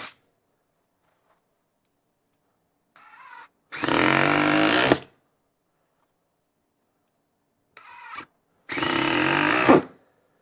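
A DeWALT DCF870 hydraulic impact driver drives a 3-inch deck screw in two separate runs, each a short motor spin-up followed by a loud, steady burst lasting over a second, with silence between.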